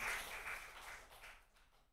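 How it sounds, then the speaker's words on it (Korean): A congregation in a Korean Baptist church gives a brief burst of applause during a Sunday evening service. The diffuse clapping is moderately faint and fades out over about two seconds. "박수 한번 좀 쳐드려요."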